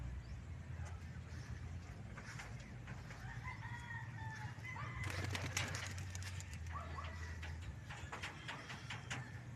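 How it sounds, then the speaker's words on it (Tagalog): Pigeons at a race training release in Batangas, with bird calls and fluttering wing bursts over a steady outdoor background, a louder cluster of flapping midway through. "Yun ang mga kalapate."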